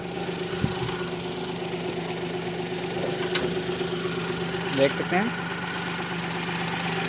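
A second-hand car's engine idles steadily at low volume during a pre-purchase inspection, a soft continuous rumble heard beneath someone speaking Hindi nearby.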